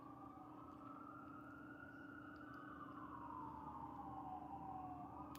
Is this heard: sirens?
yes